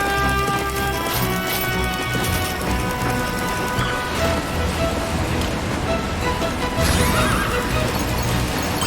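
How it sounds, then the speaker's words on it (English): In the video game Puppeteer, a horse whinnies loudly over rapid galloping hoofbeats, set against a dense, continuous bed of game music and effects with crashing noises. "Kuturo's horse is on the bit as he shrugs off every danger"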